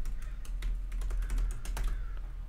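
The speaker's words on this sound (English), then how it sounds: "I'm typing it into the chat" Quiet, rapid keystrokes tap on a computer keyboard in an irregular run, close up and alone with no talk.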